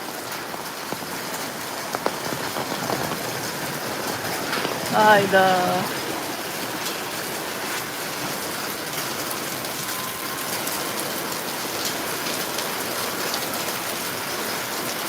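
Hail falls on a village in Mersin as a steady dense patter and hiss throughout, with a brief voice speaking near the middle.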